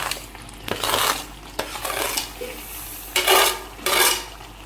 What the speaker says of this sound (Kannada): ಹಾಗೆ ಇವಾಗ ಕಂಟಿನ್ಯೂಸ್ ಆಗಿ ನಾವು ಇದನ್ನು ತಿರುಗ್ತಾ ಇರಬೇಕು